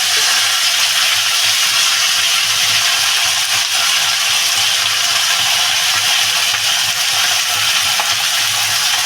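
Potatoes with burnt cumin seeds fry in a hot pan, giving a loud, steady sizzling hiss that holds unbroken from start to finish.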